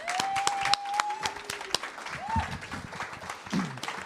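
A faculty poetry presentation audience claps for poets Kimiko Hahn and Dante Micheaux, with scattered, fairly close handclaps spread across the moment while a voice speaks over them.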